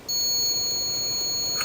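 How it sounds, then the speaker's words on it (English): A washing machine control panel sounds a steady high electronic alarm tone after start is pressed with the tray open, continuous and fairly loud over a faint background hiss. "I should get an alarm."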